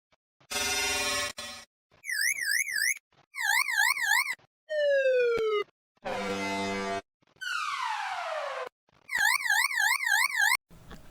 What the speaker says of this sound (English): Those are the preloaded alarm sound in the system.